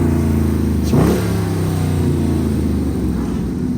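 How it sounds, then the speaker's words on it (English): A hoodless Mopar car engine revs hard nearby, a loud deep roar that climbs sharply in pitch in one quick burst, then settles back to a heavy rumbling idle. "I'm about to give you another rev real quick."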